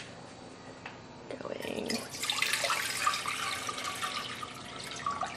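Six cups of water pour into a pan for cooking basmati rice, a steady broadband splashing rush that starts a couple of seconds in and runs to the end, close and fairly loud, with a brief spoken word heard beforehand.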